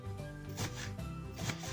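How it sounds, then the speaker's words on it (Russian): An onion is finely chopped with a knife on a cutting board, a quick series of soft, close knife taps in a steady rhythm in a home kitchen. "Мелко нарезаем лучок."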